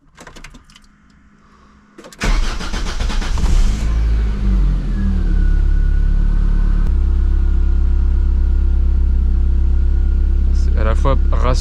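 A Volvo 480 Turbo engine being cranked and catching after a quiet start, then settling into a loud, steady running drone close by, with a brief rising whine as it fires up.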